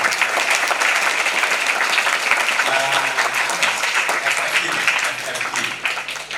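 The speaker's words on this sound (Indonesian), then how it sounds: "tepuk tangan untuk Rocky" A school audience claps loudly for a student named Rocky at the opening of Aqobah International School, a dense, sustained burst of applause that thins slightly toward the end, with a few voices underneath.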